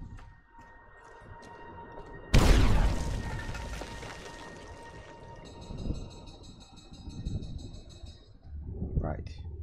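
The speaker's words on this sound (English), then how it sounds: "Apparently that was a big ass explosion." A large explosion in Fallout: New Vegas, Sierra Madre setting, bursts in suddenly as a loud broadband boom, then decays into a long rumbling tail while a voice talks over the aftermath.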